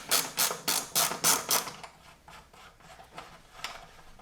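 A ratchet turning a size 12 socket on nuts of a Harley-Davidson Road Glide gives a quick run of six sharp clicking bursts, then slower, fainter ratcheting strokes, close up with no talk.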